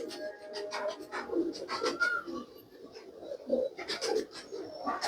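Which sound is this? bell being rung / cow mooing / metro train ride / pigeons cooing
pigeons cooing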